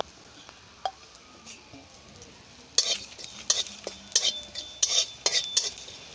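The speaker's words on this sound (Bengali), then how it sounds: "আমি এখন কড়ার মধ্যে 5 ফোড়ন 1 চামচ দিয়ে ভেজে নিচ্ছি" A teaspoon of five-spice panch phoron fries in a wok, with irregular scraping and clinking taps of a stirring utensil that grow busier partway through, over a soft constant sizzle.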